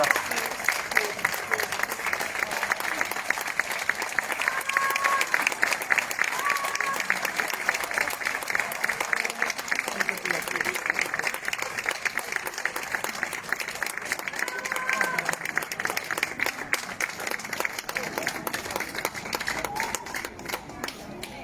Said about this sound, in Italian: Accogliamolo con un grande applauso, Peppino.